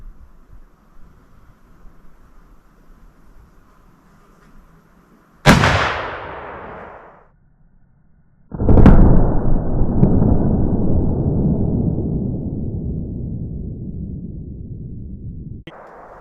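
A CVA .50 caliber muzzleloader fires a round ball outdoors: one sharp, very loud close bang with a ringing decay, followed a few seconds later by a long, rushing burst of noise that slowly fades.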